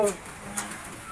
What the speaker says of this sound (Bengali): আর পাখিও আছে, এই যে দেন পাখি, ওই যে উপরে পাখি